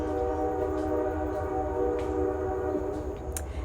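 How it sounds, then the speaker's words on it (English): A train passes near a home workspace, its low steady rumble and sustained horn-like tones droning continuously at moderate loudness, with a few faint clicks and no speech. "And the nightly train is coming through."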